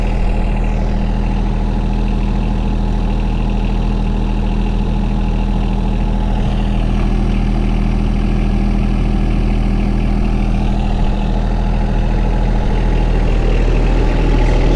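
A John Deere X758 lawn mower engine runs steadily at night, a loud, continuous low idle-like drone that stays close and even throughout, with no talking.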